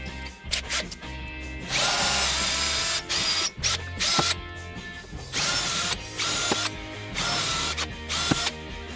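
A power drill with a larger bit runs in several loud bursts of varying length drilling through wood, interrupted by brief stops, clicks and clatter of handling.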